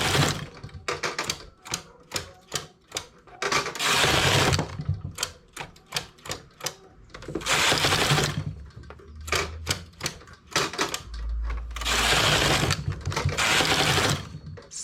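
Knitting machine carriage sliding back and forth across the needle bed while working a sea-foam stitch variation, a loud rattling mechanical clatter in repeated bursts, some quick and choppy, others longer sweeping passes, with brief pauses between rows.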